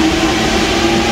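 A Paris metro train running through an indoor underground station, a loud, steady rumble with a constant low mechanical hum and no voices.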